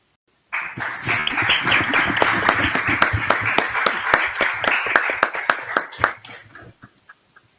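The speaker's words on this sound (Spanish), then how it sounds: "vamos a un aplauso a Víctor" A small seminar audience claps for a presenter, crisp individual hand claps forming a brief round that starts abruptly and thins out into a few scattered final claps.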